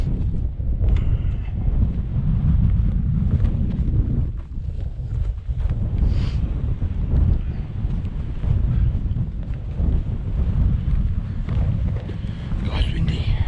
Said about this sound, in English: God's windy.